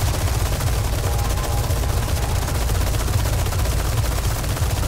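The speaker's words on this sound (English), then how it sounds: "I'm gonna just shoot until there's no more ammo." Sustained gunfire in the Resident Evil 4 Remake video game, a loud, dense stream of rapid shots pounding continuously without pause.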